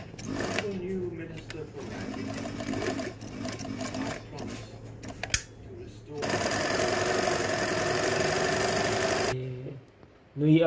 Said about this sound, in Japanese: まずは脇、こちらを縫っていきたいと思います。